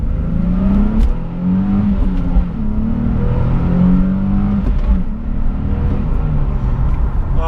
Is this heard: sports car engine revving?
yes